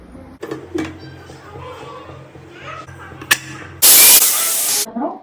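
A pressure cooker of green gram and drumstick-leaf sambar lets out a sudden, loud rush of escaping steam lasting about a second, after a stretch of quiet kitchen sounds and faint voices.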